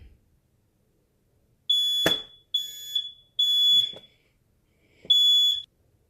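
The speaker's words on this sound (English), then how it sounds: "your smoke detector will probably sense the fumes" A high-pitched smoke alarm, set off by heat gun fumes, shrills in four bursts, three close together and one after a pause, loud and alone with faint clatter between.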